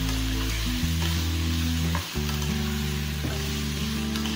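Boiled jackfruit seeds stirred in a hot pan, a continuous sizzle with soft scraping strokes, under a steady low hum that shifts in pitch partway through.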